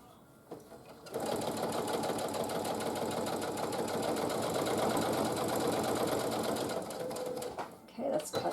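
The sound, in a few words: sewing machine stitching a quilt-as-you-go table runner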